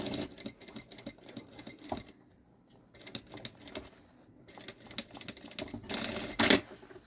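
A sewing machine stitches the lining of a synthetic-leather backpack in quick rattling bursts, pausing briefly between runs and ending with a louder, faster stretch of stitching.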